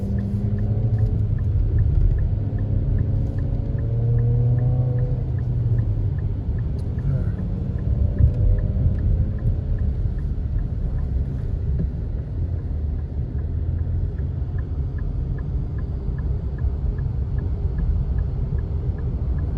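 Nissan car cruising at freeway speed, heard from inside the cabin as a steady low road and engine rumble with wind noise. Someone talks intermittently over the drone.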